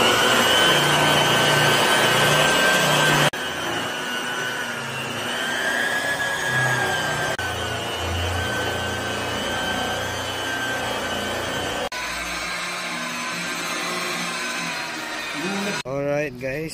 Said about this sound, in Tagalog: binabuff naman natin yung trunk